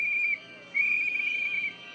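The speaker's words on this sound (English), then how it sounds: "Protesters started arriving and blowing whistles and shouting." Protesters blow shrill whistles in a street where federal agents have arrived: a short piercing blast, a brief gap, then a longer sustained one, loud and close.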